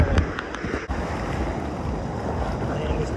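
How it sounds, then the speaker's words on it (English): Ocean waves at a beach in El Salvador, heard from in the water as a steady, loud broadband wash with wind buffeting the microphone, after a brief dip in level near the start. "I hear this ocean."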